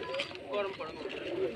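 Rajshahi Giribaj pigeons at a pigeon farm give soft, close cooing in a brief burst, with a person talking over them.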